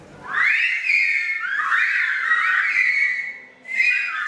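Silbo, a whistled language that mimics spoken Spanish, produced as a loud, close, gliding whistle that rises and falls in pitch like speech, holding for about three seconds, then pausing before a short final burst.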